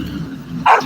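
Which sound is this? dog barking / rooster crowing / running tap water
dog barking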